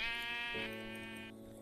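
A single sheep in the video game Minecraft gives one drawn-out bleat, clear and close, quiet overall with no talking.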